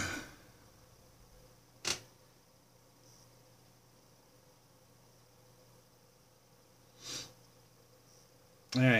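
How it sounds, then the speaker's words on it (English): Three short, close sniffles from a person whose nose is irritated by tarantula hairs, spaced several seconds apart over a quiet room hiss with no talking. "sniffle. That's the hairs."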